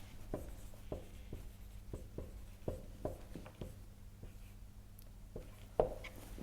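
Chalk or marker taps and short strokes on a board during a math lecture, a quiet uneven series of a dozen or so sharp ticks in a roomy hall, with one louder knock near the end.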